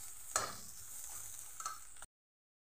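An egg bhaji is stirred as it fries in a pan, giving soft scraping strokes with two sharper clinks over a faint, steady sizzle, quiet and close, before cutting to silence.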